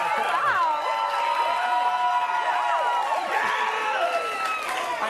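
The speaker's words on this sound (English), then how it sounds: "Huge reaction from our crowd." A television studio audience cheers and claps loudly for a contestant being welcomed on a talent search show, a continuous enthusiastic crowd roar with whoops throughout.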